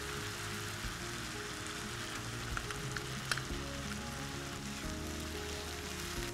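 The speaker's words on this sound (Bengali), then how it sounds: "এই নারকোল আর কাঁচা লঙ্কার পেস্টটা বেশ ভাজা ভাজা হয়ে গিয়েছে" A paste of ground coconut and green chilli fries in a pan, giving a steady, soft sizzle and crackle with occasional stirring, heard alone without talk.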